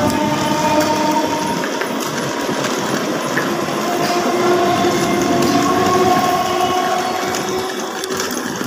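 A Bardhaman local train pulls into Kamarkundu station with a continuous loud rumble and rattle of wheels and carriages, a few faint whining tones running through the noise.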